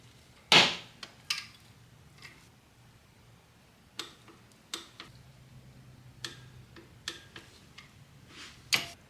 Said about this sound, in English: Now you torque that 2 bolt down to 20 foot-pound for the tensioner.